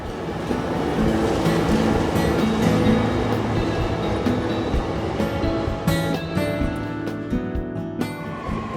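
A Hankyu 5300 series semi-express train runs on the Kyoto Line, heard from on board as a loud, steady rumble and rattle throughout, easing slightly near the end.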